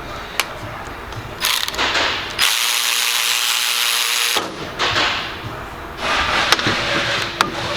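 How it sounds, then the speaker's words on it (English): A Snap-on 1/4 inch extended reach ratchet tightens a bolt during a torque test, giving a run of close, loud clicking and rasping bursts with a sustained grinding stretch in the middle. "Snap-on torque test, tightening"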